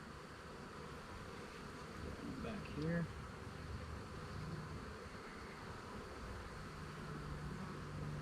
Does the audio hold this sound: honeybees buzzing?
yes